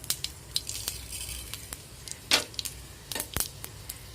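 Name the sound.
black mustard seeds sizzling in ghee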